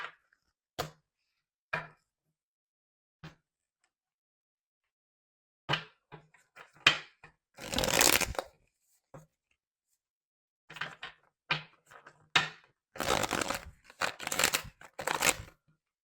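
Tarot cards are handled and shuffled in scattered bursts: sharp taps and snaps, then longer riffling flurries around the middle and end, close and fairly quiet with silent gaps between.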